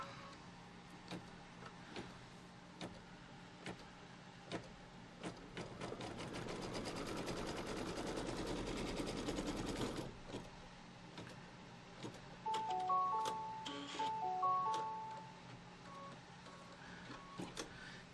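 A computerized embroidery machine stitches a line on quilt fabric in a hoop, giving a soft, quiet mechanical whir that swells into a denser run, then short electronic beeps near the end, with no talking.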